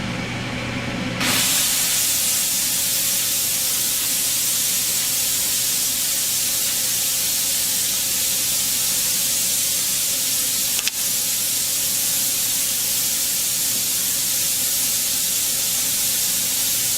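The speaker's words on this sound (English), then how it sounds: "So now I'm ready to release the pressure." Loud, sustained steam hiss rushes from the pressure release valve of a steam sterilizer after a quiet start, holding steady and broadband for a long stretch with one brief click partway through.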